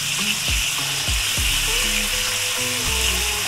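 Ginger and garlic paste frying in a pan for beef rezala, a steady hissing sizzle with a few sharp clinks and scrapes of a spoon or pan across it, close and fairly loud, no talk.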